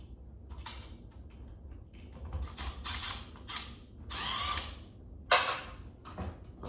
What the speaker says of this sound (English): Take our ground screw out.